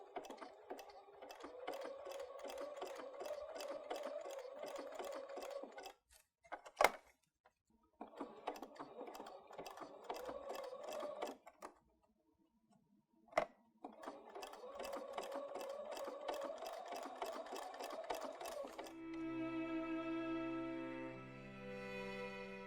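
An embroidery sewing machine stitches through tearaway stabilizer for crochet-inspired embroidery, running in three long rapid-needle bursts separated by brief pauses and small clicks, with a tonal beeping passage near the end.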